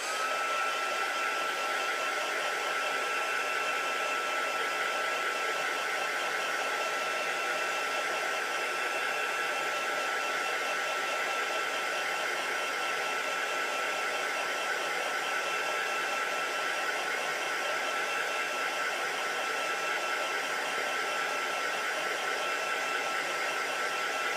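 Heat tool blowing hot air to dry a heat embossing project, a steady, moderately quiet whooshing hum that runs unbroken throughout with no talk.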